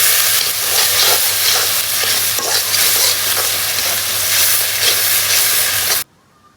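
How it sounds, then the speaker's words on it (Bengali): Masala of chilli powder and coriander powder fries loudly in a pan while being stirred, a dense sustained hiss with steady scraping that cuts off abruptly near the end, no talking. "আমি এখন মশলাটা ভালো করে কষাবো"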